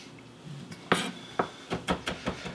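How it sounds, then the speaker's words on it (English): A knife chops small garlic cloves finely on a board for a chickpea hummus salad, giving a handful of sharp, close taps in an uneven rhythm with a soft scrape, no voices. "Chop it nice and fine so you get a lot of that garlic flavor in there."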